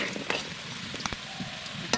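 Close, continuous sizzling of potatoes in oil in a wok, broken by the quick scrapes and clicks of stirring and a few sharp spits of hot fat.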